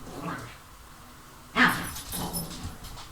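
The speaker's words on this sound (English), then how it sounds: "One of my dogs is trying to play with the other dog" Two pet dogs play indoors, one trying to rouse an older dog; a sudden close yelp or whine-like vocalization bursts out mid-clip over a quiet room, followed by softer scuffling sounds.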